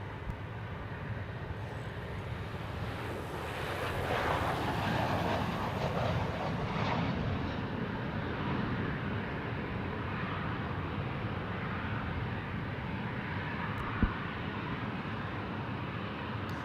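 An airliner in a 50-years anniversary livery passes at an airport, its engine roar a broad, steady rumble that swells slightly in the middle and then holds, heard from a distance with no talk.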